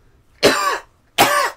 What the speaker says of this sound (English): Sounds like a freaking pigeon or something. Like a pigeon coughing.